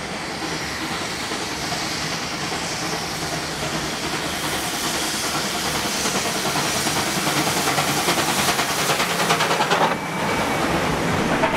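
Steam locomotive 5917 hauls a picnic train special along the main line at Carlton, New South Wales, giving a steady, loud roar of rolling wheels and hissing steam that swells slightly toward the end, with no voices.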